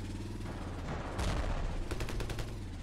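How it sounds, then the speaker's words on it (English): Gunfire from the Ravenfield video game rattles in a dense burst, with rapid repeated shots over a low rumbling background, fairly faint and distant. "I am starting to hear some gunfire"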